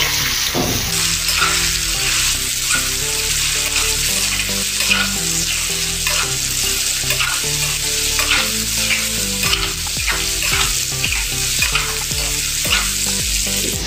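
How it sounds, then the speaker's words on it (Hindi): Gram flour being stirred and roasted in a pan over a medium gas flame, with steady loud sizzling and repeated scraping stir strokes throughout, no voices. "अभी मीडियम गैस के ऊपर अच्छे से इसको भुनेंगे।"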